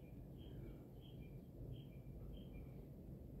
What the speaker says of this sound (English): You can hear birds singing outside as well